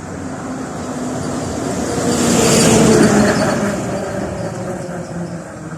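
Vehicles pass along a rural road where rice is spread to dry, one swelling to a loud, close rumble mid-way before fading back into steady traffic noise, with faint voices underneath.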